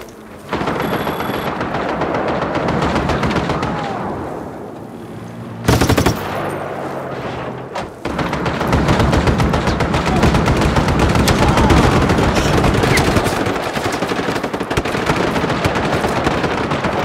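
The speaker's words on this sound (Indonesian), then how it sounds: "Gue tembak dulu nih." Dense, loud automatic gunfire from the Just Cause 3 video game, continuous rapid bursts with a brief lull and a sharp explosive hit midway before the firing resumes.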